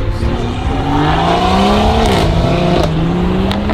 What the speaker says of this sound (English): It's so funny seeing those cars pop away. Look at them go!